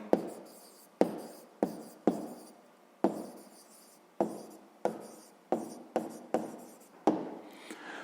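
Pen or pencil writing out the answer to a sixth-grade math problem on paper, a run of short scratchy strokes with sharp starts and brief pauses between them, close and quiet, with no talking.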